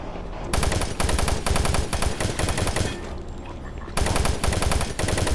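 Machine gun fire in Doom 3: Resurrection of Evil, a basic machine gun rattling in long rapid bursts with a brief pause partway through, loud and close, no talk over it.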